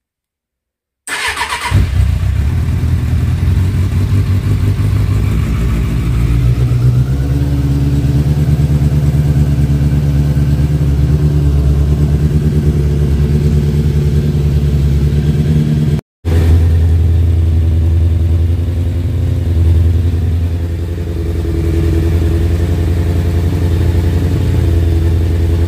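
A motorcycle engine idles loudly and steadily while warming up after a cold start with the choke on, a close, continuous rumble that settles slightly over time and briefly cuts out once.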